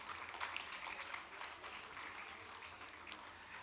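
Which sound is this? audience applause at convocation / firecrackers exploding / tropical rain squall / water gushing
audience applause at convocation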